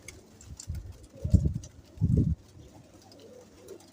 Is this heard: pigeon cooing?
yes